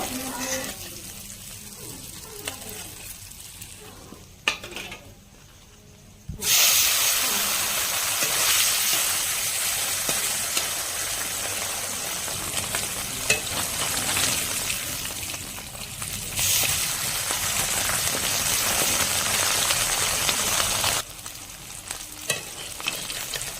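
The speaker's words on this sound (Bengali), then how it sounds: "বাকি মাছগুলোকে একইভাবে ভেজে নিব" Parshe fish frying in hot oil in a home kitchen, a dense continuous sizzle that drops briefly at one point then surges loud again, close and steady with occasional stirring clinks and no talk.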